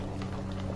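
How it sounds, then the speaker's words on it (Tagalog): Tinulang tahong, a mussel soup, bubbles in a pot with a soft, steady, low burbling boil that stays faint and close throughout this very short moment. "Kumukulo na yan."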